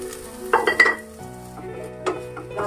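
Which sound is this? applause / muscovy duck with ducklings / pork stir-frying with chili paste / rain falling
pork stir-frying with chili paste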